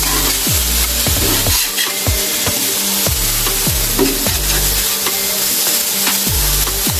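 Crappie fillets fry steadily in a pan with a loud, continuous sizzle, joined by a series of regular low scraping strokes as the pieces are stirred and turned; no voices are heard.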